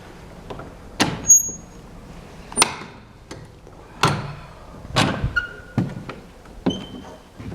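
The large door of St Mary the Virgin church in Bottesford opens with a series of clunks, knocks and creaks spaced over several seconds, close by in a quiet setting.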